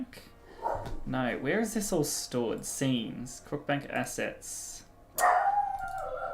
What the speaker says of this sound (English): I apologize, that is my dog in the background.